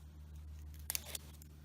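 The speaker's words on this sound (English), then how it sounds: "Now we'll just use our scissors and trim off the extras along the end" Scissors snipping paper while trimming a Stampin' Up! birthday card, a few quick close crisp cuts over a quiet low hum, no talk.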